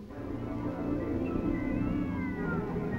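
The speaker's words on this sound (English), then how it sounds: "A cat screams." A cat screams outside a theater after hours at night, a faint wavering, drawn-out wail over low background rumble.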